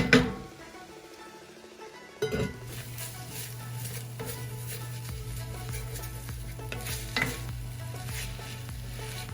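Chopped onions sauté in a pan for onion soup, a steady close sizzle with stirring scrapes and occasional utensil clinks against the pan.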